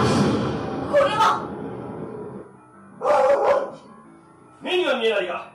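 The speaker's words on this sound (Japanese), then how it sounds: "これは私の式神、犬をやたろうじゃ" A dog gives three separate bursts of barking and yipping, spaced a couple of seconds apart and fairly close, with a person's voice also present.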